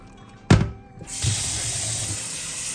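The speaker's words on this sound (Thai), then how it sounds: "เราก็เทน้ำออกไปค่ะ" Boiled bamboo shoots are drained: a sharp clunk of the pot, then a steady rushing hiss of hot yellowish water pouring out and splashing into a sink, close and continuous.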